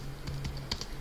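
Typing on a computer keyboard while entering router configuration commands, a few quick separate key clicks in an uneven rhythm over a low steady hum.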